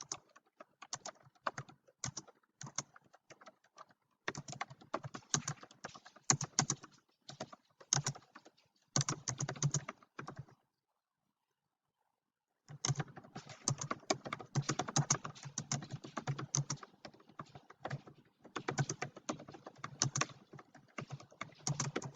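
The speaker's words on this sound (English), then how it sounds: "So I'll continue typing the rest of this document." Typing on a computer keyboard while entering a document, with steady bursts of close, quiet key clicks broken by short pauses and a longer silent gap in the middle.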